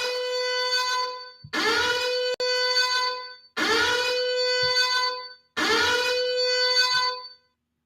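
Four loud, sustained electronic alarm blasts sound on a podcast, each a harsh buzzing tone lasting over a second and separated by brief gaps, with no talking.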